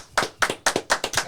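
Sharp hand claps in an irregular rhythm, about eight in quick succession, close and loud with short decays, alone.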